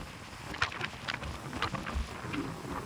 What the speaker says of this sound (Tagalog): Kaya malakas ang hangin guys.